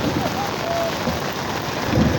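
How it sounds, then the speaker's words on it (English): Pouring rain on a garbage truck's route hisses loud and dense, a steady close downpour with no break across the short stretch. "in the pouring down rain"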